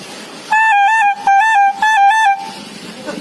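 A voice imitates a bus horn with three long, wavering honks in quick succession, loud and close, followed by a short fading tail.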